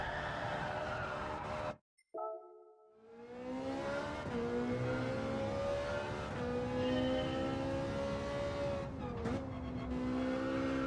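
Ferrari race car engine in Gran Turismo 7, revving loud and continuous with rising and falling pitch through gear changes, a brief near-silent gap early on, then sustained acceleration with a tire squeal.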